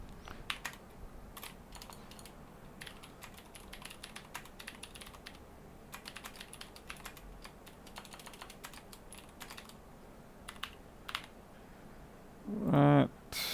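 Fingers tap on a computer keyboard at a MacBook repair bench, quiet irregular clicks running throughout, then a brief louder voice near the end.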